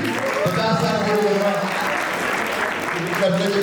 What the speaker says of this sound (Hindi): और एक बार जोरदार तालियां इस अनोखी जोड़ी के लिए।